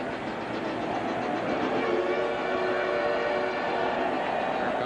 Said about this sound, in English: Here comes the Pirate train roaring through the stadium.